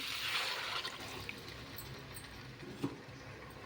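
Water splashes and trickles steadily into a crab curry mixture, a soft liquid pour with no talking.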